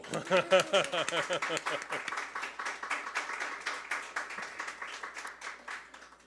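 A church congregation breaks into applause, dense rapid clapping that starts strong and thins gradually over several seconds, fairly close and unaccompanied by talk.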